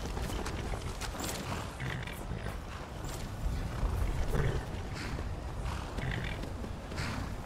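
Hooves clip-clop at a steady trot under a dense wash of creaks and rumbling ambience, moderately loud and continuous, in the video game Skyrim.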